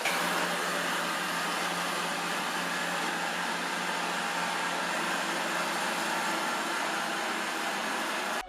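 An Ultenic D5S Pro robot vacuum cleaner running in Eco mode, a steady soft whirring hum with an even airy hiss, constant throughout and close by.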